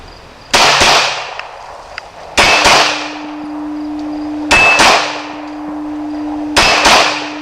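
A Glock pistol fires double taps outdoors at steel targets: four sharp pairs of loud, close shots, each followed by a ringing metallic clang that fades between pairs.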